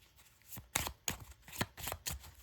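Cards are shuffled in a series of quick, crisp riffling bursts, close by, with no talking.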